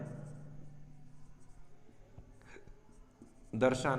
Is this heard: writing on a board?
yes